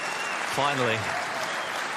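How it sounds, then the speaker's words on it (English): A snooker crowd at the Welsh Open final bursts into broad, hissing applause that runs throughout, while a commentator briefly speaks over it. "Big whoops of applause."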